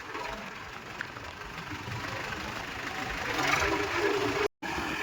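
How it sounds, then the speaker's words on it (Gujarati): A tractor engine idles close by, a continuous low rumble with broadband noise that holds level and briefly drops out near the end. "અશોકભાઈ કીધું આપણે રિવર્સમાં લઈને ટ્રેક્ટર વારી દે"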